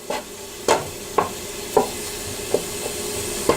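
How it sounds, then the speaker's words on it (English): Garlic browning in a hot pan: a soft continuous sizzle with a series of sharp clinks and taps every half second or so, like a utensil stirring and scraping. "Now we're going to brown this garlic. It's starting to sizzle"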